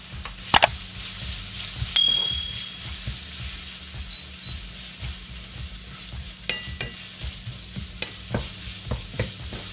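Chopped onions with salt sizzling and frying in a pan for a Kerala-style egg roast, with repeated stirring scrapes and occasional light clinks of the spoon against the pan throughout.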